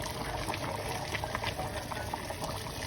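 Meat simmers in a pot of water topped up for further boiling, a soft continuous bubbling and gurgling with small pops, quiet and close with no speech.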